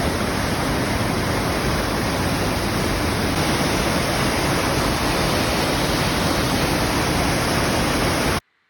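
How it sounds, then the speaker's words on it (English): Virgin Creek Falls waterfall rushing in a steady, loud, unbroken roar of falling water near the Girdwood area in Alaska, close and constant throughout before cutting off abruptly at the end. "We're off to see Virgin Creek Falls."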